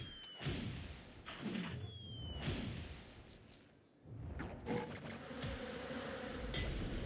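An attack sound effect in the mobile game Phobies, with buzzing insect swarm noises and swooshing whooshes coming in several bursts, one after another, with no speech.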